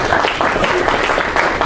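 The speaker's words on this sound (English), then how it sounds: "Round of applause for Jack." Audience at a GOP fall fundraiser in East Providence, Rhode Island, applauding for Jack, a dense, steady round of clapping close by with voices mixed in, lasting under two seconds.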